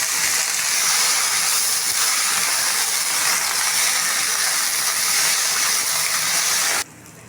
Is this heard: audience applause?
no